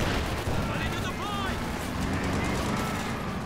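A regular infantry grenade explodes in Company of Heroes 2 during a 2v2 match, a burst of blast and gunfire-like crackle inside a dense, continuous battle din of game combat noise.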